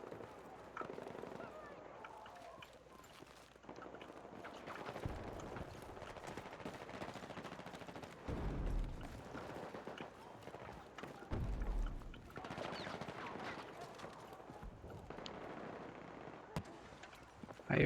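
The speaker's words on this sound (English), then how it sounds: "I hear gunfire. They must be on the other side." Gunfire in the video game Battlefield 6 crackles in scattered bursts and rapid automatic volleys across a long stretch, varying from distant pops to closer, louder strings of shots, with a voice occasionally talking over the game.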